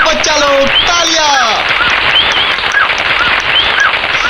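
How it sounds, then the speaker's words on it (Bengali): Children clap at a magic show, a dense burst of applause running throughout under a performer's lively talk and music. "তালিয়া তালিয়া বাচ্চালো তালিয়া।"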